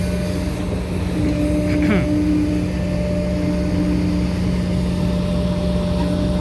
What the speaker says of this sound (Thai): ทีมงานออกรถใหม่นะครับ รถไถ